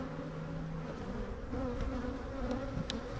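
Disturbed honeybees swarm around an opened hive in a dense, steady buzzing drone, close and loud throughout with no talk.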